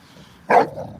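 A puppy gives a single short, sharp bark, close and fairly loud, after a quiet moment, trailing off into a brief faint whimper.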